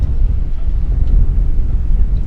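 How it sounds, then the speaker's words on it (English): Strong wind gusting across a boat moored in an anchorage, a steady low roar and rumble buffeting the microphone throughout with no break. "So it's quite the windy day in the anchorage."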